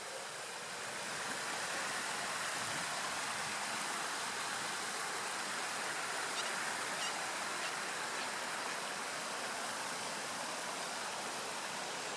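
A waterfall beside a golf green near Brisbane gives a steady, moderate rush of running water throughout, with no talk and only faint background traffic.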